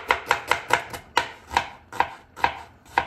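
A knife chopping onion on a board for a salad with sumac and pomegranate molasses: about a dozen crisp, evenly spaced taps, close up and alone.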